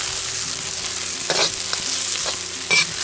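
Onion and garlic frying in a hot pan for Chinese chicken noodles, a loud continuous close sizzle with a few swells as the food is stirred.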